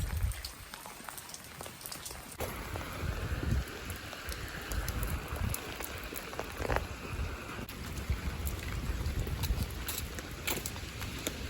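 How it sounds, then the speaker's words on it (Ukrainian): Steady light rain patters on surfaces nearby, a continuous soft hiss with scattered drips and a faint breeze, no voices. "Так, на вулиці дощик."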